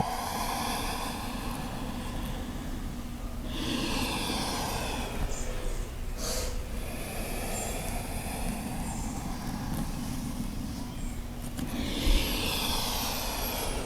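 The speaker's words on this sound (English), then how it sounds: "Nice full breaths in, and long deep breaths out." Deep yoga breathing during a calm practice: slow, long inhales and exhales with a breathy hiss, repeating in a few drawn-out cycles at close range.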